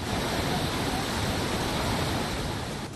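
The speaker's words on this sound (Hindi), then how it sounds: "यह मध्यगिर से निकलने वाली शिंगवटो नदी झरने के रूप में बहती है" The Shingvato river, flowing down from central Gir in Gujarat, pours as a waterfall swollen by cyclone rains, making a loud, dense, unbroken roar of rushing water from start to end.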